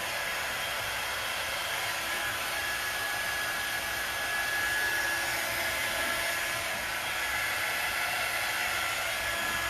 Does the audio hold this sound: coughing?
no